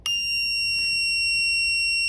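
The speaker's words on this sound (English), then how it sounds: "this LED will illuminate and this buzzer will sound" A piercing electronic buzzer on a Viking Machinery low level alarm sounds one continuous high-pitched tone, loud and steady from start to finish, with no talking.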